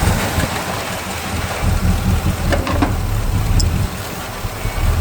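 A small block Chevy V8 idles steadily with a low, even rumble during a rocker arm valve lash adjustment, with a few faint ticks and clicks over the constant engine drone and no talking.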